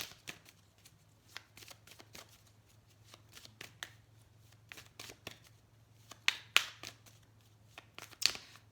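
Tarot cards are shuffled and drawn close up and quietly, with a steady run of soft riffling flicks and snaps, a few sharper card slaps near the end, and no voice.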